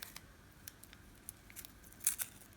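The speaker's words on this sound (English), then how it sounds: "Now you can remove the masking tape." Masking tape peeled off a stone, giving faint scattered crackles and short tearing sounds, ending in a louder ripping burst near the end.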